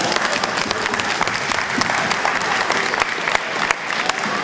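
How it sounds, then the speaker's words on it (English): Enthusiastic applause from a small crowd at a spring fair, steady clapping throughout, close and fairly loud. "Round of applause for that."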